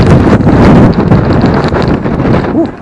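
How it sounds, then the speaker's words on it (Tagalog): Strong wind buffets the microphone with a steady low rumble and gusty roar during a motorcycle road trip in Tagaytay, close and loud, with no voices. "Hangin."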